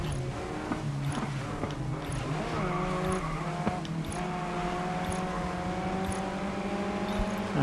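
Race car engine in the video game GRID Legends drones steadily with shifting pitch as the car slides on a rain-soaked track, a continuous loud game mix with faint tire and skid noise throughout.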